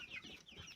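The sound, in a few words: chickens clucking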